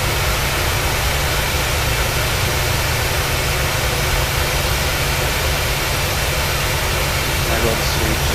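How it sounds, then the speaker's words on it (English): Boeing 737-800 jet engines run in the PMDG flight simulator, giving a steady, loud, dense roar that holds constant from start to finish without any break. "So you guys can see and hear these engines."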